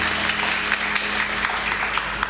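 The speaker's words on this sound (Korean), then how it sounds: "사랑과 축복으로 또 박수하도록 하겠습니다" A church congregation applauds visitors, dense steady clapping from many people filling the hall throughout, even and continuous without talk.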